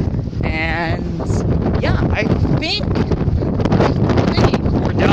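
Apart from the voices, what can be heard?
strong wind on cruise ship deck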